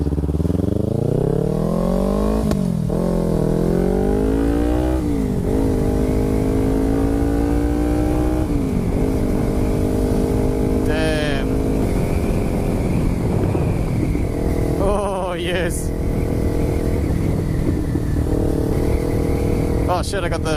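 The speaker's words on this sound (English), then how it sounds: "this exhaust is that it makes a 300cc bike sound like a 600cc bike" A 2014 Kawasaki Ninja 300 with an aftermarket MGP exhaust roars continuously with rising and falling revs through gear shifts, loud and close, with a deep, throaty exhaust note.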